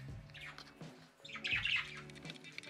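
Nine caged pet birds squawk and chirp in a busy, overlapping chatter, with louder harsh calls rising in the middle, close by.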